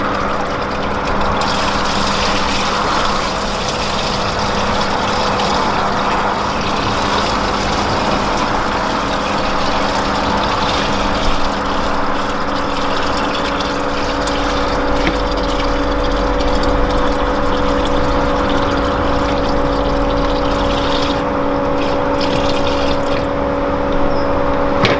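A pump runs steadily while filling a water demonstration rig, giving a constant motor hum with a broad rushing, trickling water wash on top, loud and unbroken throughout.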